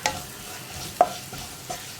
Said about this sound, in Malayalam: ഇനി പൊടികളൊന്ന് കുക്കായി വരട്ടെ നന്നായിട്ട്.